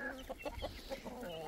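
Chickens and young chicks clucking close by in a short, steady run of soft, overlapping calls, with no talking.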